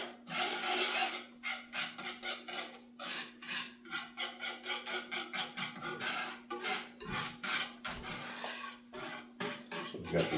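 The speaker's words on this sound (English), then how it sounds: "Whisk this together." Repeated scraping strokes of a whisk stirring Guinness, butter, sugar and cocoa in a saucepan, a steady rhythmic rasp running close and continuous throughout with no talking.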